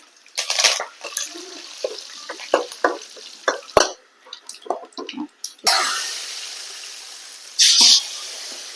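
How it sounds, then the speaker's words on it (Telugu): Oil tempering for rasam with dry chillies, mustard seeds, cumin and curry leaves: close crackling pops and spits in hot oil, then a loud sustained sizzle as the leaves hit, with stirring and a second burst of frying. "ఇంత ఆయిల్ వేసేస్తున్నానండి రసంకి తాలింపు వేసేస్తున్నాను కొంచెం ఎండుమిరపకాయ కొంచెం ఆవాలు జీలకర్ర కొంచెం కరేపాకండి"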